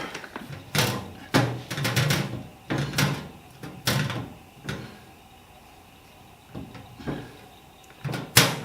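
Side door panel being taken off a Millermatic 255 MIG welder during assembly: a series of sharp metallic clunks and knocks, close and moderately loud, spaced irregularly across the clip.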